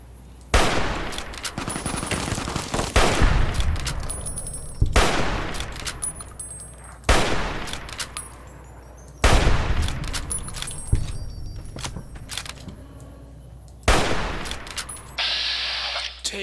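Gunfire in the video game Fallout New Vegas, a series of loud repeated bursts of shots every couple of seconds, each sharp crack tailing off, with speech faintly present.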